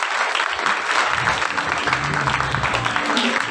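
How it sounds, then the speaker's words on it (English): A school festival audience breaks into applause, steady clapping throughout with a low murmur of voices underneath. "Please give him a round of applause."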